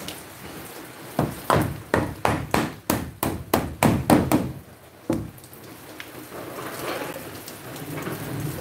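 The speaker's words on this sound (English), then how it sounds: "It is raining." Rain falls at a construction site while marine plywood walls are being built, a steady wash of rainfall under a run of loud, evenly spaced hammer blows, then one more strike before the rain continues alone.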